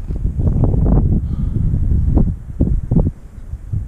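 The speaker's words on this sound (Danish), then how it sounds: "det blæser ganske mye." Wind gusting outdoors during a maiden flight of a Loki X4 quadcopter drone with BH 1407 motors, a loud, continuous low rumble of wind buffeting the microphone, swelling and easing in bursts throughout.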